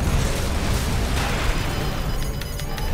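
Explosion in the mech combat game Armored Core 6 during a PvP fight, a loud sustained roaring blast with crackling debris and rumble filling the whole moment, no voices heard.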